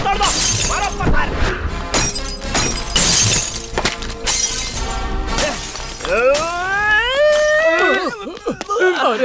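Glass shattering as stones are thrown during a mob attack, loud repeated crashes and breaking over shouting and commotion, followed by wailing voices in an action movie scene.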